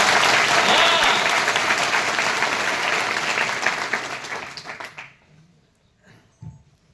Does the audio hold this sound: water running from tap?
no